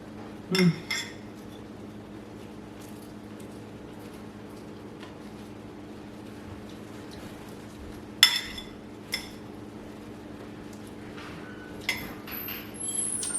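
Cutlery clinks against dishes while someone eats a Deep South salad with pecans: a few sharp, isolated clinks and scrapes, spaced apart over quiet background hum.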